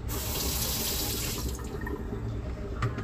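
Tap water runs steadily into a kitchen sink as a grater is rinsed, a continuous close splashing stream with light clinks, no talking.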